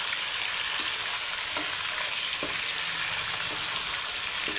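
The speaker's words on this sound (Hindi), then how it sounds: "इसमें आप चिकन ऐड करेंगे और चिकन को अच्छे से फ्राई करेंगे।" Chicken, with cauliflower, fries in a pan with a constant loud sizzle, and occasional soft knocks of stirring break through it.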